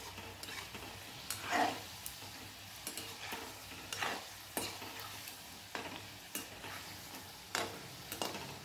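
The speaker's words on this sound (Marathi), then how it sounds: "सारखा हलवायचे, उलटपालट करायचे म्हणजे सगळ्या बाजूने आपले मोदक हे तळून निघतील" Mango modaks frying in oil over a low gas flame, with a spoon stirring and turning them. Soft steady sizzle runs underneath while scraping strokes come every second or so, fairly close and moderately quiet.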